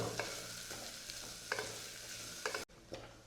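Sliced onions, including small shallots, fried and stirred in a pan toward browning for beef curry, a quiet sizzle with periodic spatula scrapes, nearby, stopping briefly before resuming.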